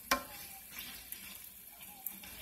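Steak and vegetables sizzle quietly in a pan, cooked on the dry side for a wrap, with a soft steady hiss, a couple of brief stirring clicks and faint background voices.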